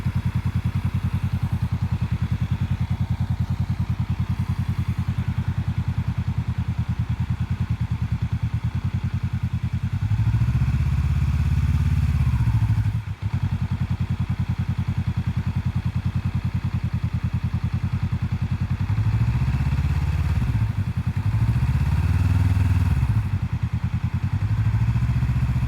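A motorcycle engine runs steadily throughout while a learner works the clutch friction zone, a loud continuous idle with a few swelling rev-like surges and a brief dropout midway.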